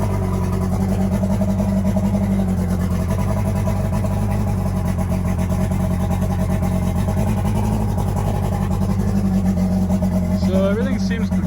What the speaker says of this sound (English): So everything seems good on the engine. I mean, it's shifting good. It's, you know, it's idling pretty good.